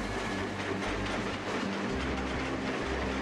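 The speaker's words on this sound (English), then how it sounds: "Beware, runaway trains are faster than you." A runaway train rolls along rails in the Trainz video game, a continuous dense rumble with rhythmic clickety-clack of wheels over rail joints, steady and fairly loud throughout, with no voices.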